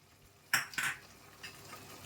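A metal spoon scrapes and clinks twice in a pan as ginger garlic paste is mixed in while cooking paneer kaju butter masala, with faint soft stirring afterward and no talk.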